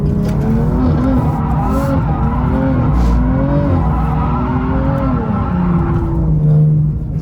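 A drifting car held in second gear slides through a corner with a steady, loud engine drone and tyre noise that rise and waver together without a break, close to the listener.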